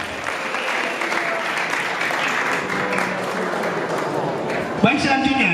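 A room of Islamic boarding school students claps for a classmate named Malim, a steady wash of applause lasting several seconds before a voice cuts in near the end.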